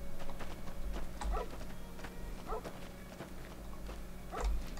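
Dog trotting in the video game Fallout New Vegas, soft repeated footfalls with occasional yips and small vocal whines over a low humming game ambience.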